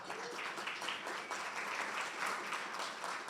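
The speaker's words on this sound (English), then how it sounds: "A round of applause, please." An audience at a medical association meeting claps together, a fairly quiet, dense patter of applause that holds steady throughout.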